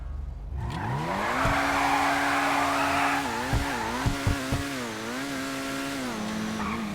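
A loud racing-car engine in the video game GTA V revs up and holds a high, steady whine, dipping and rising in pitch with a few sharp clunks, alone without speech.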